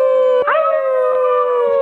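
Several people howl together like wolves, one long sustained rising-and-falling tonal howl of voices, loud and close, imitating a wolf cry.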